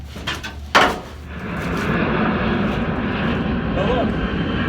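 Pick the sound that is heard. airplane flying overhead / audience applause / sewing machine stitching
airplane flying overhead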